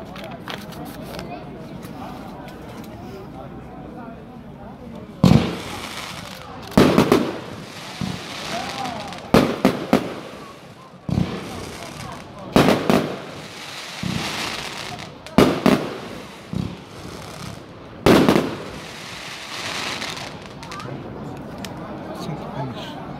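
A rapid series of sharp firework shots and cracks from a 25-shot fireworks demo, loud bursts spaced unevenly over a steady background, with people chatting faintly between them.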